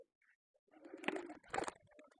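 Pigeons coo softly nearby, with a couple of low, throaty bursts and some rustling, after a brief near-silent start.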